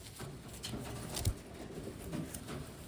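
Wantai pigeons from Taiwan coo softly in a loft, with low murmuring calls and a few small scratchy movements heard alone, without talk.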